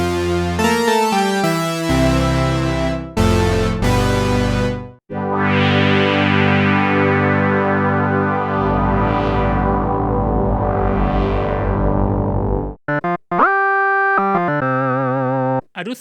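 Preset patches from a free software synthesizer plugin play in turn: bright plucked and stabbing tones, then a long sustained pad with sweeping filter swells, then short chiming notes near the end, loud and alone.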